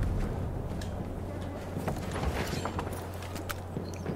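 A horse clip-clops steadily at a walk in Battlefield 1 on PS4. The hoofbeats are soft and even, set over a low ambient game hum, with no talking.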